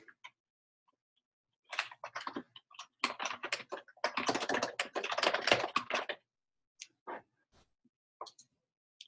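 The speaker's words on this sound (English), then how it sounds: "I can type in some tags." Bursts of typing on a computer keyboard while entering tags for a test article in a website content system, close and clear, with irregular clusters of key clicks separated by short pauses and a final few isolated taps.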